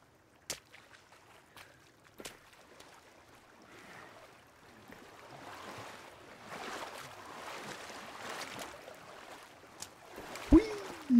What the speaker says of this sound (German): Okay, hier ist Wasserfall.